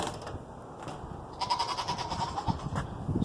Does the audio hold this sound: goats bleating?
yes